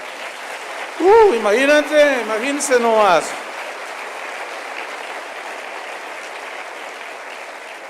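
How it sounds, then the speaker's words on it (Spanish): A church congregation applauds steadily as a sermon continues, a wash of clapping heard behind someone speaking in Spanish. "Eso merece un aplauso para el Señor"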